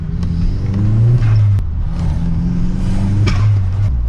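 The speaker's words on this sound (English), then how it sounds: "Oh, this car sounds too sick." A modified Ford Fiesta ST hot hatch on a street cruise growls loudly from the cabin, its engine droning and revving in rising and falling swells, with a brief sharp knock partway through.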